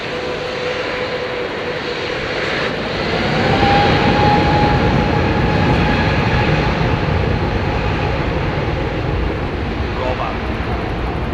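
A Boeing 777 at Heathrow Airport gives a loud, continuous jet engine roar that swells and holds steady through the evening departures. A voice talks over it.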